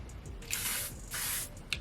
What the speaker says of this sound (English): And this is a 36-hour Defy transferring spray.